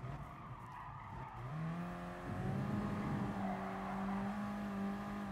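A Peugeot race car in Gran Turismo Sport holds a steady engine drone that rises in pitch as it accelerates, with tire skidding and squeal mixed in, continuous and fairly loud.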